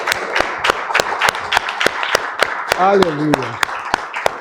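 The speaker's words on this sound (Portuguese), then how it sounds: "Vamos aplaudir ao nosso Deus" A church congregation at a worship service clapping in a steady, evenly spaced rhythm, sharp and close, while a voice speaks over the applause.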